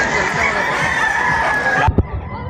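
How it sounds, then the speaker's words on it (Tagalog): A large flock of chickens clucks and crows together in a dense, busy chorus for about two seconds, then the sound cuts off abruptly, leaving a few faint knocks. "Ayan, ang daming chicken."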